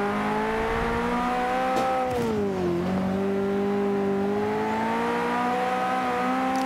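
A Ferrari F40 and a Lamborghini Countach, two upgraded 1980s supercars racing in a game, roar continuously under acceleration, the engine pitch dipping at a gear change and then climbing steadily again, loud and close.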